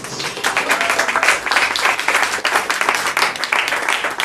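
A church congregation applauds Jesus, a dense continuous burst of many hands clapping that carries steadily throughout.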